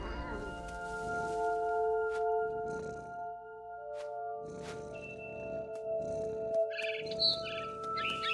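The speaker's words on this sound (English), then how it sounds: "Then I heard chirping outside my window. It was a barn swallow going back to her nest." Short chirping bird calls of a barn swallow in the video game What Remains of Edith Finch, bright bursts near the end over a steady droning ambient music bed, with a few soft thumps.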